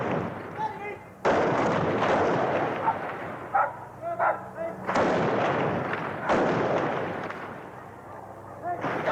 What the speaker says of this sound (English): After stone throwing, troops came under fire.